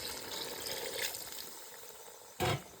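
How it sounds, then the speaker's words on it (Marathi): Water is poured into a pot of village-style chicken curry as it cooks: a steady, wet rushing sound, with a brief louder splash near the end and no voices. "आणि आपल्याला पाणी टाकायचं"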